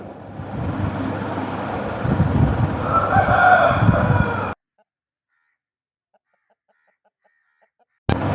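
A fast young fighting rooster clucks and crows loudly and close for about four seconds over light wind, then the sound cuts abruptly to near silence.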